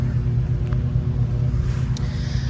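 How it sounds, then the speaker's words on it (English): Deep, continuous rumble of thunder rolling outdoors over a fall brassica food plot just before rain, steady and fairly loud throughout with no speech. "it's thundering. It's getting ready to pour on us."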